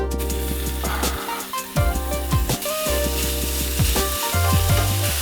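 Bacon drops into a pan over medium-high heat and sizzles loudly and steadily, close up, with a few scraping and clinking pan noises over the constant fry and no talking.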